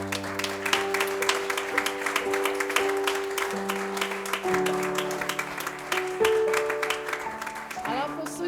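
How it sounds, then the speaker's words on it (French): Congregation applause during an Easter church service and play, steady crowd clapping over sustained music tones, with speech mixed in. "On peut les applaudir."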